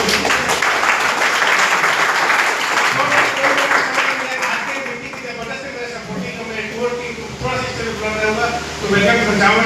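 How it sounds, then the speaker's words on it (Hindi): An audience at an LDP meeting in Kota, Bilaspur claps loudly and steadily for several seconds, a dense wash of hands that thins into scattered claps and chatter as people talk over it. "मैं चाहूँगा सर कि जबरदस्त ताली होना चाहिए"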